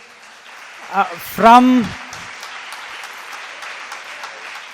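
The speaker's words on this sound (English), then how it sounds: "let's give a big round of applause to our brothers" Applause from the audience at a felicitation ceremony greets visiting performers from the Department of Actuarial Sciences, Prashanthi Nilayam. Someone speaks briefly over a diffuse wash of distant clapping, which stays fairly soft and even.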